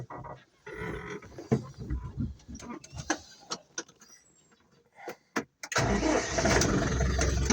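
A tractor's PTO engaged at 540 rpm drives a rotary tiller-cultivator: scattered knocks and clatter build into a loud, steady mechanical roar that runs on without a break for the last seconds.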